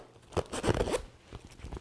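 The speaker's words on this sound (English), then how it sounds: "the best thing to do is zip the two together" A zipper is drawn to join the two panels of a MOmarsh Versa dog vest, giving a close, raspy burst of zipping with a couple of shorter fabric rasps after it and no talking.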